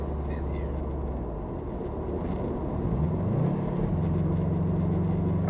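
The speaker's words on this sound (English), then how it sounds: "Downshift in 5th gear." Subaru WRX STI engine rumbling steadily, then a rev blip as the driver downshifts in fifth gear, the pitch rising and settling at a new steady drone, heard from inside the car.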